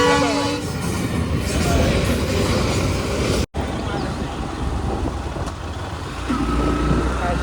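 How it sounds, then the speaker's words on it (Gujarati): Train rolling past near a roadside in Somnath, a broad loud rumble of wheels and carriages with a brief horn note, continuing steadily across the clip with a momentary cut in the middle; no talking. "આને કહેવાય ટ્રેન"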